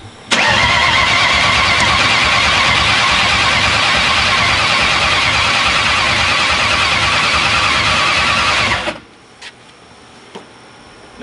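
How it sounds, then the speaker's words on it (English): A built Ford Mustang GT engine cranks steadily for its first start, a loud, continuous starter churn lasting several seconds before it abruptly cuts off, followed by quiet clicks and near silence. "Hold all the way down, crank it"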